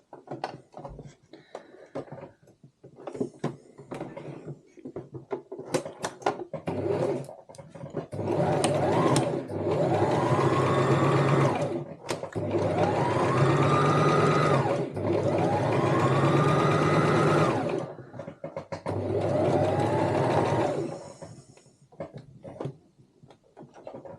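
A sewing machine stitches up the side seam of a fabric cosmetic bag in several sustained whirring bursts separated by short pauses and small handling clicks, fairly close and clear.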